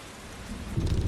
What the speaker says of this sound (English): you can see the rain on the handlebars there.